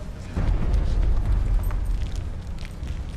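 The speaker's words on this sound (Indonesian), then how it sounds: "Ada yang meledak." A deep rumbling explosion roars loud and close, a sustained low boom that slowly fades, with no voices over it.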